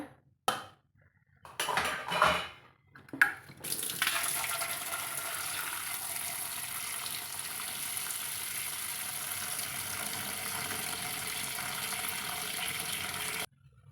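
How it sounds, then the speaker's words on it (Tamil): Jamun fruit is washed in a vessel of water. A few seconds of handling clatter give way to a steady, close rush of running water that continues without a break. "அதைய ஒரு பாத்திரத்தில் சேர்த்தி கழுவி எடுத்துக்கலாங்க"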